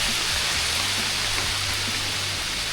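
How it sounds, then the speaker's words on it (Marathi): Heavy monsoon rain pours steadily on a forest trail between Panhala fort and Pawankhind, a dense, loud, continuous hiss close around with no break and no speech. "पाऊस जोरात पडतोय आणि आम्ही एका झाडाखाली थांबलोय."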